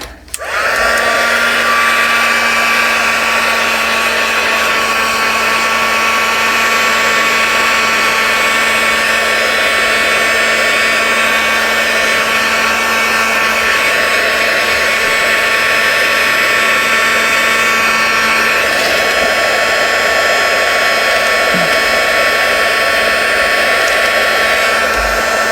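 A hair dryer blows steadily on a coffee-soaked paper page for ephemera crafting, a loud continuous whoosh with a motor hum that runs unbroken from start to finish with no talking.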